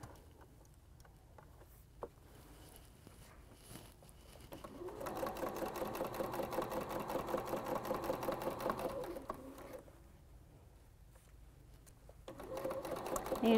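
A sewing machine stitches quarter-inch seams on a quilted table runner, a soft steady rapid whirring run that rises for several seconds, pauses, then starts again, quiet and close with a few faint handling clicks.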